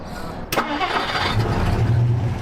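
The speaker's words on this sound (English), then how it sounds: "It fires right up." A 1959 Plymouth engine cranks and catches after a sharp click, then settles into a loud, steady running rumble close by.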